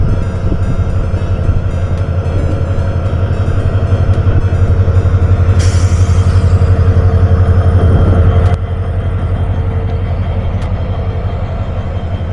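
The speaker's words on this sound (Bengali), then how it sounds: "দক্ষিণ কোরিয়ান হুন্দাই রোটেম 3002 লোকোমোটিভ নিয়ে বের হয়ে যাচ্ছে।" The Suborno Express departs from platform 3 between Dhaka and Chittagong, pulled by a South Korean Hyundai Rotem 3002 locomotive, giving a loud, close, continuous rolling rumble and diesel drone, with a short high screech partway through.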